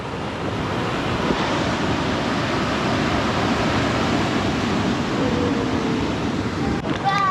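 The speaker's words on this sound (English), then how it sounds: "it's stormy, stormy, stormy, but I think that's going to make these waves even more epic" Stormy sea waves crash against the rocks of the Welsh coast in rain, making a dense, continuous roar. Heavy wind buffets the microphone throughout, loud and unbroken, with a faint rustle near the end.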